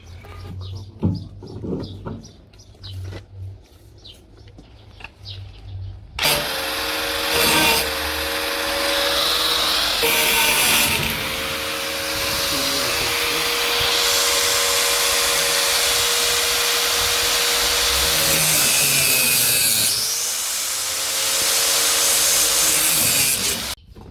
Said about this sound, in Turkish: spiralle e, motorun hava giriş ve çıkış e, bakır borularını keseceğiz